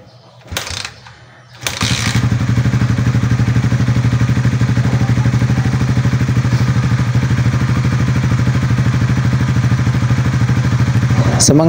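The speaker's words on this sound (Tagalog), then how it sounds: "So next naman mga bossing ay papanda rin na natin yung ating motor." A 2024 Suzuki Raider 150 Fi motorcycle engine starts after a brief clatter, then settles into a loud, steady, close idle that runs without a break.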